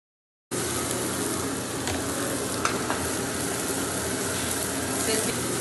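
Pasta going into a pan of garlic and oil and being stirred, giving a steady close sizzle and frying crackle with scraping stir sounds throughout, starting abruptly after a brief silence.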